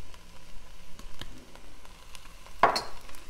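Garlic hitting sweating red onions in a pot, a soft sizzle with faint stirring, then one sharp scrape or clatter near the end.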